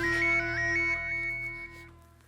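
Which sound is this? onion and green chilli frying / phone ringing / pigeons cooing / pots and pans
phone ringing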